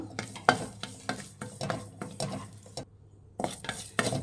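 Curry leaves and tamarind fry in a pan for a masala dosa filling, giving a close, steady sizzle broken by repeated scraping stirs of a spoon against the pan, with a brief lull near the end.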